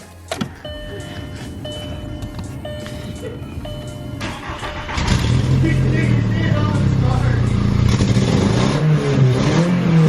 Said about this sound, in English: Here, start this up, rev the piss out of it.